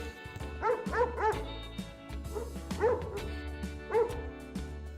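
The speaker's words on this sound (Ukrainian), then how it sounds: "Це маленьке цуценятко." A small puppy yips and barks in short, high bursts, several quick barks in a row, fairly close, with low background sound.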